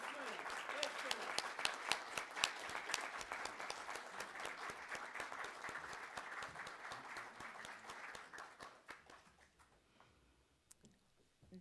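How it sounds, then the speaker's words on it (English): An audience at a reparations convention in Atlanta applauds the Honorable Salas Muhammad with sustained, dense clapping that fades out after about nine seconds, with a voice heard over the noise. "Please give a round of applause for the Honorable Salas Muhammad with his"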